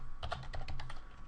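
Brisk typing of Visual Basic code on a computer keyboard, a quick run of about eight close, crisp clicks in one short burst, alone without speech.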